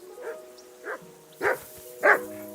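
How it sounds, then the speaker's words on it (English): A dog barks four times at uneven gaps in the medieval game Kingdom Come: Deliverance II, each bark louder than the last, and there is no talking. "Jesus, Henry, that barking's driving me nuts."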